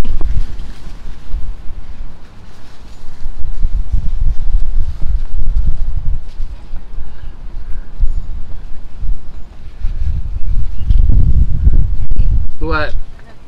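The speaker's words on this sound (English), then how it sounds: "It's kind of windy out here." Strong wind buffets a microphone outdoors, a steady low rumble with gusts throughout, and voices talk faintly beneath it near the end.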